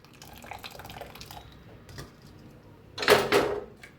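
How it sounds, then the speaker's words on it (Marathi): Hot water is poured over cooked dal for katachi amti, with a faint trickle and drip followed by a louder, brief splashing pour near the end. "आता ह्याच्यावर ओतायचं गरम पाणी"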